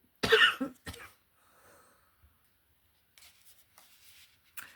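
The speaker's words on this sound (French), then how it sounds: "On tousse pour évacuer" A couple of sharp, loud coughs close by, followed by quieter rustling and a few soft scrapes.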